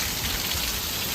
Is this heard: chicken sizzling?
no